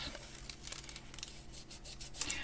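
Burnishing tool rubbing across a sheet of polymer clay, a close, steady scraping rub with short brushy strokes repeating alone at low volume.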